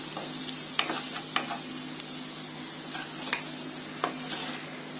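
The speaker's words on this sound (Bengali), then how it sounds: "1 চা চামচ লাল মরিচের গুঁড়া। আবার একটু ভেজে নিতে হবে।" Spices frying with white pepper, salt and red chili powder, a soft steady sizzle with a few light stirring taps and scrapes, fairly quiet and without talk.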